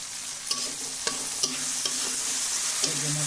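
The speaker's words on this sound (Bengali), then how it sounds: "এই যে মোটামুটি ভাজা হয়ে যাচ্ছে, এখন আলুগুলো দিয়ে দিলাম" Potatoes and cabbage fry in a pan, giving a steady loud sizzle throughout, while a utensil clinks against the pan in a few distinct stirring taps.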